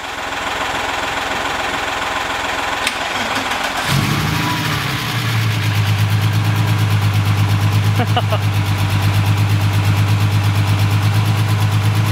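A BMW E30 engine idles with a deep, steady rumble that grows heavier after a few seconds, droning on continuously close by.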